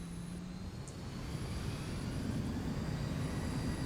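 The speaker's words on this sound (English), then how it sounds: "The APU is kicking in, so I can actually shut those engines off and still have electrical power" Boeing 737 auxiliary power unit running in a flight simulator game, a steady low rumble with a faint high whine, continuous and even throughout with no voices.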